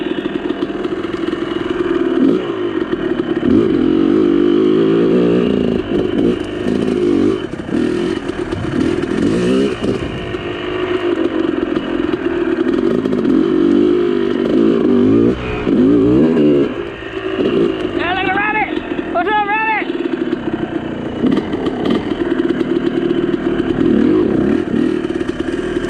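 Motorcycles revving hard as their rear wheels spin in deep mud, a loud continuous engine roar rising and falling in surges with clattering through the whole stretch.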